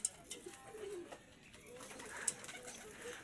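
Racing pigeons returning from a training toss from Alaminos, Quezon, with faint distant cooing and light bird calls over quiet outdoor background, a couple of brief high chirps standing out.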